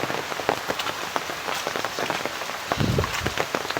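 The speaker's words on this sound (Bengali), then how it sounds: "আমাদের এদিকে খুব বেশি বৃষ্টি হচ্ছে।" Heavy rain pours steadily during days of flooding in Noakhali, Bangladesh, a dense continuous patter of drops striking surfaces nearby with no voices.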